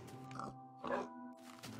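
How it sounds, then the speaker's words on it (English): Pigs in Minecraft on the Xbox 360 edition give a few short, nasal oinks and grunts, close and clear, with no talking over them. "Piggies!"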